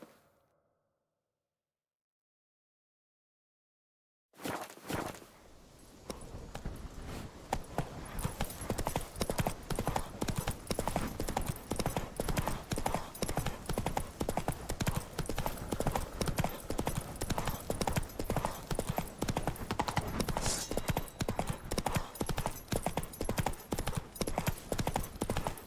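Roach, a horse in the video game The Witcher, gallops in a fast, steady drumming of hooves that starts abruptly after a few seconds of silence and stays loud and close, with a faint whinny near the start.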